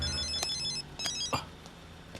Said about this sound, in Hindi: सर कमिश्नर साहब का फोन है।